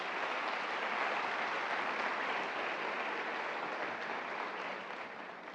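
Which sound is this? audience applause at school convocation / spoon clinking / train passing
audience applause at school convocation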